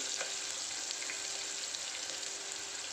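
Cashews frying in hot oil for spiced masala rice give a steady, dense sizzle that runs the whole time without a break, close and even, with a few faint crackles on top.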